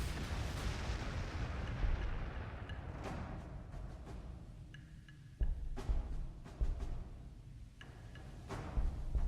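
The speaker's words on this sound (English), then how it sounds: "Artillery is doing pretty good damage here" Artillery fire in a Warhammer 40K Astra Militarum strategy game: a steady low rumble of distant shelling with several sharp, loud impacts at intervals, no voices.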